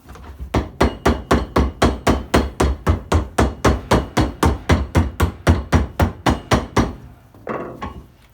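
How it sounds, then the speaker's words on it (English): A hammer knocks on a boot being repaired about twenty-five times in a steady, even rhythm, each knock sharp and close, ending in a brief shuffle. "Give it a gentle knock with the hammer."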